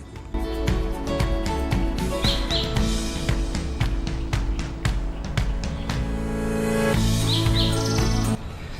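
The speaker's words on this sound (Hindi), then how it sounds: "प्यारे प्यारे इन पक्षियों की आवाज़ सुनूंगा" Birds chirp outdoors in a park setting, with repeated short bright tweets standing out over a dense, steady bed of background noise and low hum, moderately loud throughout.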